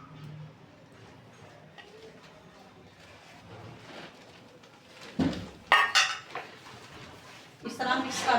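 Eggs stirred into a pan of potato curry, with a spoon clinking and scraping against the pan in short bursts, the loudest toward the end. Quiet household noise and faint cooing birds sit in the background.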